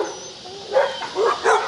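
A dog barks three times in quick succession a short distance off, the sharp yaps rising above a quiet outdoor background.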